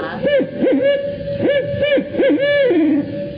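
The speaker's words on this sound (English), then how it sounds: "that one is a great horned owl" A great horned owl hoots outdoors in a wildlife garden setting, several soft rhythmic hoots in short groups, fairly close and clear with no talk over them.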